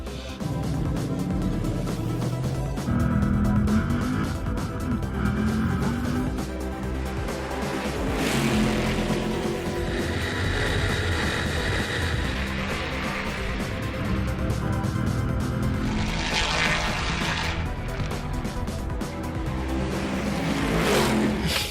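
Fast racing car launching hard on a racetrack, engine roaring loud and sustained for the whole stretch with surging revs and a couple of brighter rising pushes.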